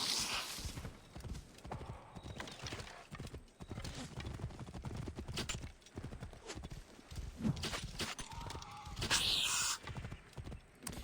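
Horse hooves clip-clop at a gallop in the Assassin's Creed Origins video game, with a horse whinnying. The steady, fairly close hoofbeats run throughout under game sounds and occasional talk.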